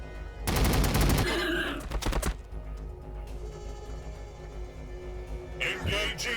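Rapid gunfire bursts in the strategy game Battlesector with Blood Angels forces, a loud dense volley up front, then quieter scattered shots and background battle noise, followed by another brief burst near the end.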